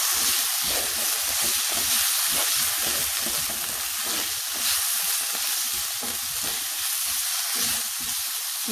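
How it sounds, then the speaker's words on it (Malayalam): Steady sizzling in a pan with oil crackling and occasional stirring scrapes, loud and close, continuing without pause. "എനിക്കൊന്ന് ചെറുക വഴന്നാൽ മതി, ഒത്തിരി മൂത്ത് പോകണ്ടേ."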